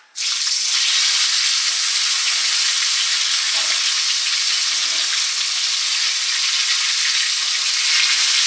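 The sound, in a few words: fish heads frying in mustard oil in a wok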